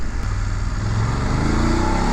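A 2019 BMW F850GSA motorcycle engine rumbles loud and close with a steady low throb and rising harmonic tones as it pulls away at low speed in city traffic, with no talk.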